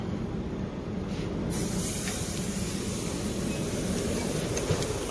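Tri tip sears on the grill side of a pellet grill, giving a steady broad sizzle and hiss that swells slightly partway in and then holds, close and continuous, with no talk.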